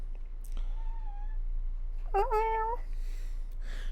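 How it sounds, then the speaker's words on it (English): A cat meows twice, a short call followed by a louder, longer meow, over a quiet background hum. "He just meowed."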